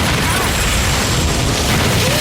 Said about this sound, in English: Oh, there's been an explosion!